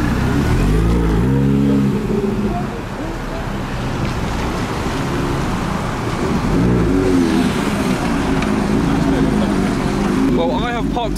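Loud modified car engines, including Mazda MX5s, Minis and Subarus, rev and rise in pitch one after another as they leave a car meet at night, with rumbling exhaust close by and brief voices mixed in.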